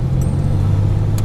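A truck with an overdrive transmission drives through city streets, its engine giving a steady low rumbling drone heard from inside the cab.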